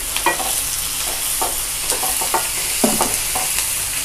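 Onions and tomatoes sautéing in hot oil in a pan for rava kichadi, a steady close sizzle broken by repeated scraping stirs of a spatula against the pan, with no voices.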